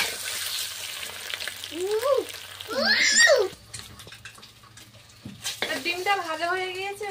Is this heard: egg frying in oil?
yes